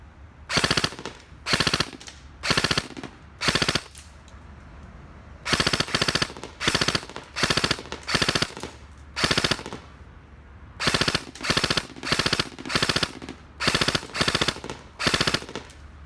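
A Classic Army airsoft gun fires repeated short bursts of about five rounds each, sharp and close, with clear pauses between bursts.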